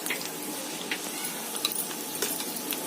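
Red chilli powder and kasuri methi frying in hot oil for a bhindi gravy, giving a soft, steady sizzle with small crackles and pops, faint and continuous throughout.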